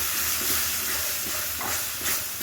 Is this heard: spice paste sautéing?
yes